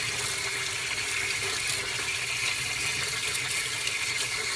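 Meat for a pork-based raw grind, including beef heart, rinsed under a running tap: a continuous hissing stream of water splashing steadily at close range, with no talking.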